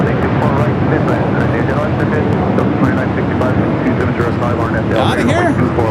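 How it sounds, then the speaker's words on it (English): Alaska Airlines airliner arriving from Portland on approach to land at LAX, a steady loud broadband jet roar filling the whole clip with a rising whine near the end, heard alongside talk. "We got a Alaska flight coming in from Portland up next."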